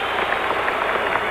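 A 1977 NBA crowd at Memorial Coliseum in Portland roaring during a Blazers versus 76ers game, a dense, loud, continuous wash of cheering and applause.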